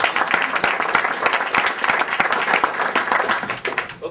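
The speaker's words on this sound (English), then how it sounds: "you can give him a round of applause." A round of applause for state senator Dave Daniels, loud and close, with individual sharp claps standing out from a moderately sized crowd clapping steadily throughout.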